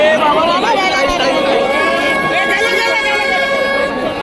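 An Indian cricket crowd outside the stadium gate at the India vs Bangladesh World Cup match in Pune roars and chatters continuously and loudly, with dense overlapping voices, cheering and a few horn-like toots throughout.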